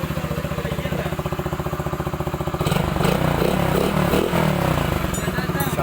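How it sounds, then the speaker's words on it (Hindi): A rebuilt motorcycle engine in a workshop idles with a steady rapid thump, then revs up louder and rougher for the remaining seconds, running close and loud without talk. "यह इंजन कंप्लीट हो गया है। ये कितना साउंड अच्छा निकला है"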